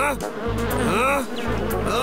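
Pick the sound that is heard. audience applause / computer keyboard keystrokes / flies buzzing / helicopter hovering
flies buzzing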